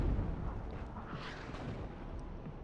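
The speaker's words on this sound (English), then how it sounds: "Artillery coming in on that corner" Artillery fire in the WARNO real-time strategy game, heard as a steady, rumbling roar of distant shelling with muffled blasts that blend into one another.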